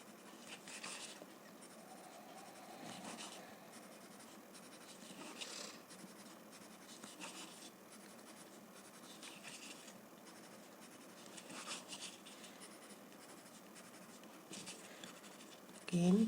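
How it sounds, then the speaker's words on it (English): Graphite pencil shading on paper: soft, scratchy strokes repeat faintly and close up, with a low, steady texture throughout. "I'm going to add graphite on both sides and highlight the center"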